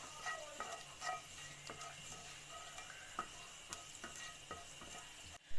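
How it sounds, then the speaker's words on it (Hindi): Cumin seeds fry in three tablespoons of oil in a pan for moong dal kachori, a quiet, even sizzle with occasional light ticks of stirring and a brief knock at the end. "1 टीस्पून इसमें मैं ज़ीरा ऐड करूँगी और इसको बहुत अच्छा सा फ्राई कर लूँगी"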